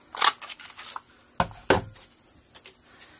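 Scissors cutting a small circle of card stock, heard as a few quiet, sharp snips and crisp paper rustles spaced unevenly across a few seconds.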